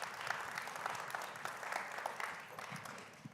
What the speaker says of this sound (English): if you can give him a warm round of applause